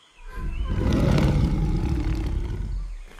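A huge creature lets out one deep, rumbling roar that swells and holds for a few seconds before fading, heavy and close with a growling low end.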